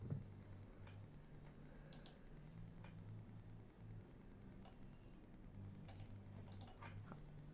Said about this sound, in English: You are a fast typer, Tigress.